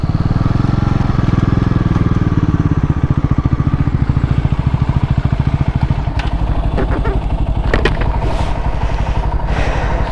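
Bajaj Pulsar motorcycles in a drag race, an engine held hard against the rev limiter with a loud, rapid stuttering buzz that keeps pulsing close by, then slight crackles as it eases.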